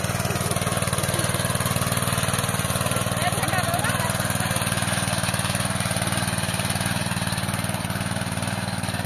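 Tractor engine running steadily on a farm field being prepared for capsicum planting, a continuous loud mechanical drone throughout with no pauses.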